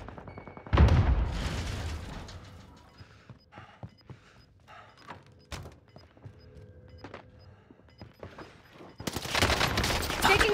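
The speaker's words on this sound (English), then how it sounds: "Taking shots. Under fire." Gunfire in Call of Duty: Warzone, with a loud burst of rapid shots near the start, scattered single cracks and thuds through the middle, then another dense, sustained volley at the end.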